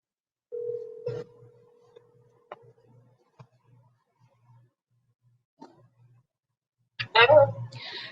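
A steady telephone dial tone hums while a call is placed to a commissioner during an online community forum, followed by a few faint clicks and taps, then a voice answering at the end.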